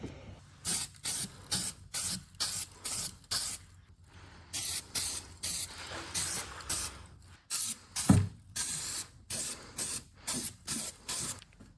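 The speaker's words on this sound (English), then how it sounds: "I'm just going to use some Rust-Oleum matte black paint just to put a layer over it, just so there's not bare metal." Rust-Oleum matte black spray paint goes onto bare metal on an E36 car build in short, repeated hissing bursts with brief gaps between them, close and fairly loud, no voices.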